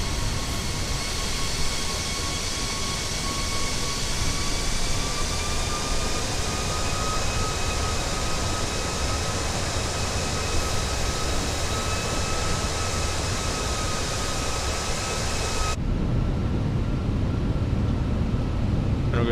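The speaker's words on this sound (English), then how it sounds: "let's go ahead and go gear down" Landing gear extends on a Fenix A319 airliner in a flight simulator, a continuous loud rumble of airflow and engine drone with steady whining tones, which drops off abruptly near the end.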